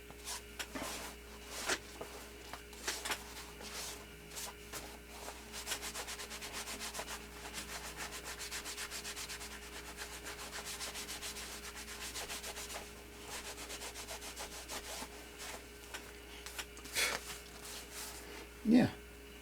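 A leather knife sheath is rubbed down by hand, giving a continuous close, soft scuffing friction with rhythmic strokes through most of the stretch and a couple of sharper knocks near the end.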